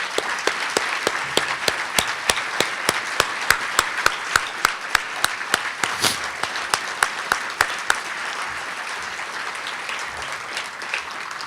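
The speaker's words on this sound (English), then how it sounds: "I would like the staff that are here of the Iowa Soybean Association to stand and receive the applause you're due." An audience at a recognition event applauds the standing staff of the Iowa Soybean Association, a steady wash of clapping punctuated by sharp, evenly spaced claps from someone close by, easing off toward the end.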